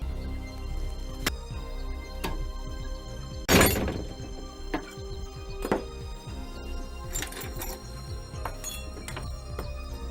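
Glass breaking in a short burst of shattering and tinkling shards, set among scattered thuds and clinks in an otherwise quiet space, with no talking.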